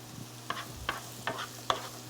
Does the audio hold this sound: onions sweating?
yes